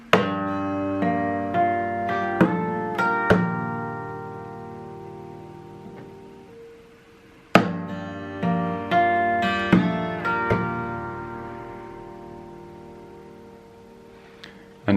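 Percussive acoustic guitar playing: plucked chords and notes mixed with sharp body hits, the phrase repeated twice in a flowing rhythm, close and clear with no speech.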